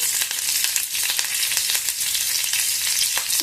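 Cumin, mustard seeds and curry leaves crackle in hot oil for an oats upma, a bright continuous sizzle with quick popping bursts, near and steady, no one speaking.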